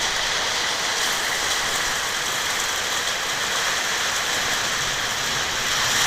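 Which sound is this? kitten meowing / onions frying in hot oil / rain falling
rain falling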